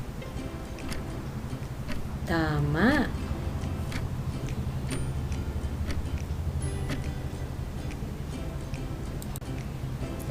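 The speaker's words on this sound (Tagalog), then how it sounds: "Paano man ang tanog kang orasan?" A clock ticks in a steady, faint rhythm under a voice, which speaks briefly before the ticking carries on alone.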